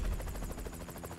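A Bell 407 helicopter's rotor and engine make a rapid, rhythmic chopping thump over a steady whine, continuous and fairly quiet, heard close from the cockpit.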